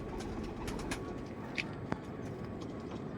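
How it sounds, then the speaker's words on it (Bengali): A pigeon coos softly in a short, low murmuring phrase, close by, with faint background noise and no talk. "এই হচ্ছে পায়রা"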